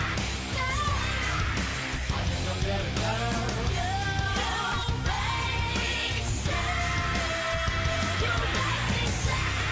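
A female rock singer screams over loud, dense band music in a music video, her raw voice riding a driving mix of guitars and drums that stays strong for the whole stretch.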